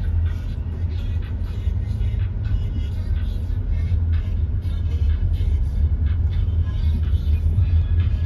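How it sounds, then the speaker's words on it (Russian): A steady, heavy rumble of a train rolling past, continuous and fairly close, with no voices. "Мы опять этот же поезд встречаем."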